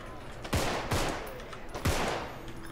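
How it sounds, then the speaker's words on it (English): Gunfire from the zombie video game Contagion: three loud, sharp close shots with booming reverberant tails, spaced irregularly over a steady background hum. "you basically just have to keep shooting him everywhere"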